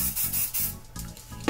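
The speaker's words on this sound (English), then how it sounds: "I'm gonna just spray some black spray paint on one." Black spray paint hissing from an aerosol can in short bursts, close and fairly quiet, with brief pauses between sprays.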